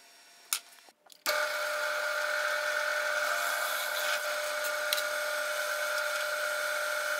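A few soft clicks and a pause, then a power drill bores a 1/4 inch hole for a tuner in a cigar box guitar, a loud, steady, even whine running close and unbroken to the end.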